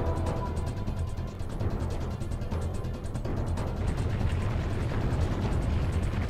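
An explosion in the Resident Evil 4 video game, a dense, sustained roaring rumble with crackling bursts that fills the whole stretch, loud and continuous with no talking.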